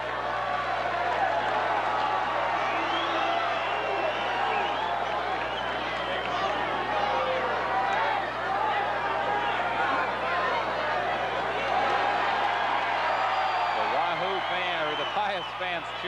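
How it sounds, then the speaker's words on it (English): Basketball fans cheering in a packed high school gym at a 1989 title game, a dense, sustained roar of crowd voices that stays loud throughout with no break. "Pius fans cheering as apparently they think someone from Wahoo threw the ice."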